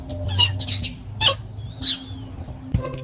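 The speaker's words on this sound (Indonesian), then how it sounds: "Iya, kucing kadang bisa berkicau seperti ini." A pet cat chirping indoors, several short, bright chirrups and trills at close range spaced across a few seconds, with a soft thump near the end.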